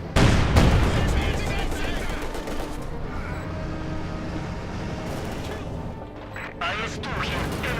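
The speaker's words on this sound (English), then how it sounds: "Light artillery barrage going in there." Light artillery barrage in the Company of Heroes 2 war game: a dense run of booming blasts and crackling gunfire, loudest at the start, then a steady rumble of explosions layered with scattered impacts.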